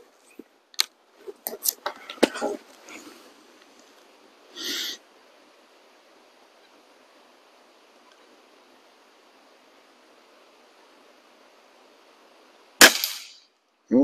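A Feinwerkbau Sport air rifle fires while plinking at targets, a cluster of sharp snapping shots early on followed by a long quiet pause and another crisp crack near the end, with faint metallic ringing after some shots.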